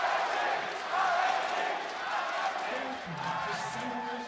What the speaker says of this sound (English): A lot of cheers in the crowd for RNG.